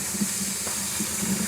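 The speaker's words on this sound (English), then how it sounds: "I personally like to fill the sink up" Water running from a kitchen tap into a sink with the stopper in, a steady close hissing rush that fills the sink at constant loudness with no talking.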